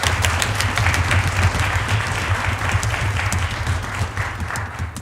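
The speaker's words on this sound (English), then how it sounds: "give them another round of applause." Audience applause for children following a Christmas piano recital, a dense, steady clapping that fills the room and holds level throughout without fading.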